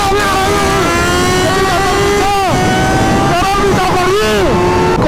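Loud engines of a Suzuki Hayabusa and a Kawasaki Ninja ZX-10R roar and rev, with pitch sweeping up and down as the motorcycles race past close by in Ladakh, continuous and aggressive throughout.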